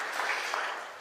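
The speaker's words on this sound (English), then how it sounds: "I think that deserves a clap" A church congregation clapping briefly after a birthday message during a Sunday service, a short soft burst of applause that fades within about a second.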